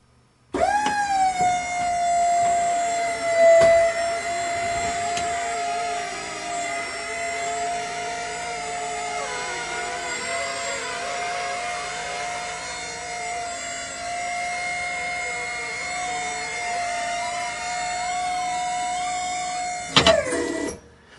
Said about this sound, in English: you'll be able to see how the hydraulic lift system pushes out, and as it does, it's actually pulling on the cables, and that's what raises and lowers the trailer